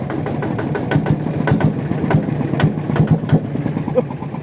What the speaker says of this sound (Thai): เดี๋ยว เร่งเครื่องให้ดู